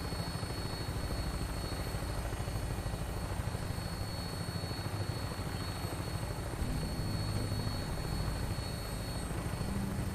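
Aircraft engine and rotor drone from Fallout 4 as it flies in on final approach to land at an airport, a steady, loud, dense roar with a rhythmic beating throb running unbroken throughout.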